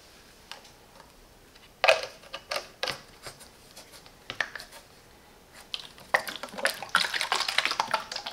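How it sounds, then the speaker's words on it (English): Water running into the tank of a Livarno spray mop, heard as irregular splashing and trickling bursts that grow denser and louder toward the end, close by with no talk. "Now let's fill up with water the tank."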